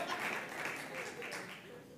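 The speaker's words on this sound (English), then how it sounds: "Y'all can clap for Dubs." Audience applause fills a room, a steady wash of clapping lasting about two seconds at moderate level, with faint voices mixed underneath.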